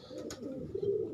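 Pigeons coo close by in a loft of breeding pairs and young birds, a low soft rolling coo swelling toward the end over a faint background hum, with no talking.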